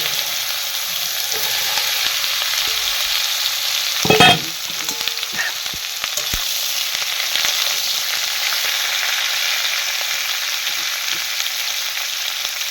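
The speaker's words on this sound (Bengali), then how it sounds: "কালো জিরে আর গোটা জিরে দিলাম, আর একটুখানি 5 ফোড়ন দিয়ে আর সবজি" Vegetables hit hot oil tempered with nigella seeds, cumin and five-spice, and a loud continuous sizzle follows, with one sharp burst of spattering and stirring scrapes early on.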